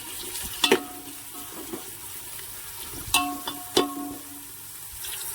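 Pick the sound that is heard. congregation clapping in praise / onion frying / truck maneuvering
onion frying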